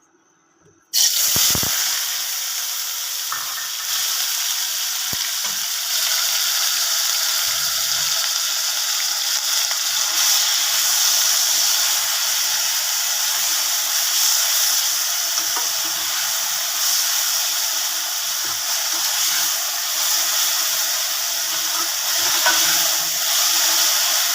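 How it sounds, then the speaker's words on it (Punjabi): Ginger, tomato, garlic, green chili and onion sizzle in hot oil as a tadka is added, with a loud, steady frying hiss that starts abruptly and carries on close up with no talking. "ਇਸੇ ਤੇਲ ਦੇ ਵਿੱਚ ਹੀ ਆਪਾਂ ਹੁਣ ਤੜਕਾ ਲਗਾ ਲਾਂਗੇ"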